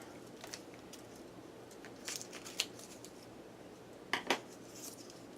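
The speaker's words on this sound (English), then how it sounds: "And what did I do with my scissors? Here they are." Scissors snip a tag off a handmade Christmas wreath, giving a few faint, crisp cuts in two small clusters against a quiet room background, with no talking.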